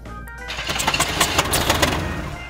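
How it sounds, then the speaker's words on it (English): Cartoon aircraft engines sputter and cough in rapid uneven bursts, loud and close, straining without catching. "Come on, engines, work."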